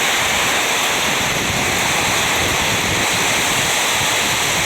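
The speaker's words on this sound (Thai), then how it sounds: "ลมแรงทั้งลมทั้งฝนเลยครับ" Steady, dense roar of heavy rain and gusting wind during a storm at a rural workshop, loud and unbroken throughout, with no voices.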